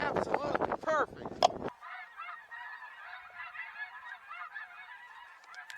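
Snow geese honk overhead during a spring hunt, a dense chorus of many overlapping calls that carries on steadily after a brief burst of louder, closer honks and human voices at the start.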